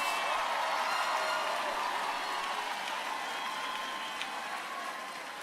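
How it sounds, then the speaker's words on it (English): Broad, steady applause from a large commencement crowd honoring Xavier University of Louisiana graduates, a continuous wash of clapping that slowly fades. "Give them a big round of applause"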